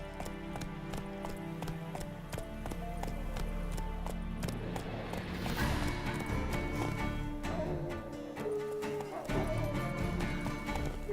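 Roach, the horse in The Witcher 3, gallops in steady rhythmic hoofbeats that carry over a rich orchestral game score, with a brief whinny and no talk.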